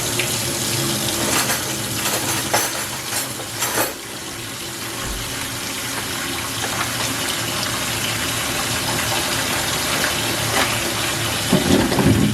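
Mushrooms are washed under a running kitchen tap, with a steady, close gush of water into the sink filling the whole stretch without a break and no one speaking.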